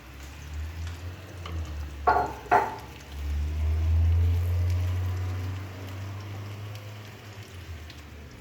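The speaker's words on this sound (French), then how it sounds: "On va chauffer l'huile juste un petit peu. On va mettre les oignons." Onions dropped into lightly heated olive oil in a pan give a soft, steady sizzle and crackle, with a couple of brief louder bursts early on, close and alone with no talk.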